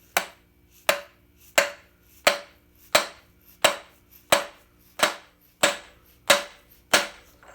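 Twelve loud, sharp metallic hammer strikes on a seal driver and 1.5-inch socket, driving a seal into a WD45 engine at a steady pace, each ringing briefly before the next blow, with no talking.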